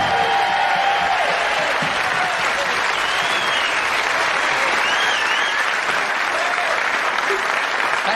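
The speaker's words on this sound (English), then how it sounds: "How anyone can get such applause" Studio audience applause for television host Terry Wogan, a dense, steady roar of many hands clapping at full strength without a break, loud and close throughout with no voices over it.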